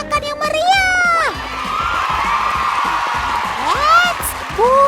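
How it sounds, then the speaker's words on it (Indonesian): A children's TV studio audience cheers and whoops with shouting kids' voices, loud and close, while sweeping tonal sounds rise and fall over the crowd noise. "Beri tepuk tangan dan sorakan yang meriah"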